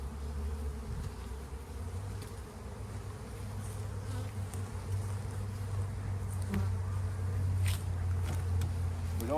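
Honey bees buzz around an open spring hive during hive boosting, a dense, steady close hum of many insects with occasional louder passes near by.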